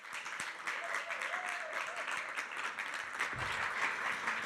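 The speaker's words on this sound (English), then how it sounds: "Please welcome with a warm, very warm applause, Clarissa Whitmire and Jean-Sébastien Jouhanneau" Warm audience applause welcoming two speakers at a neuroscience talk event, a steady dense patter of clapping lasting throughout, with a faint voice murmuring underneath.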